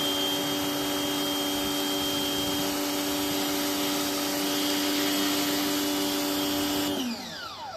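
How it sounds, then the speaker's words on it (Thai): A pressure washer rated at 4500 PSI sprays water through a pivoting quick-connect coupler, producing a loud, steady motor whine with a broadband hiss that cuts off sharply near the end, leaving a fading wind-down. "ไปฉีดเลย น้ำแรงปุดปุดนี่นะปรับได้ตามต้องการ"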